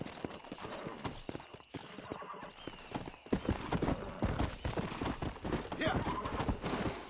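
A horse in the video game Red Dead Redemption gallops with rapid rhythmic hoofbeats and an occasional whinny, while a player shouts and talks over the action.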